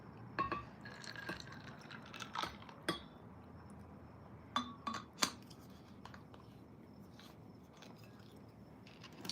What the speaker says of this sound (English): Let me pour some of this juice.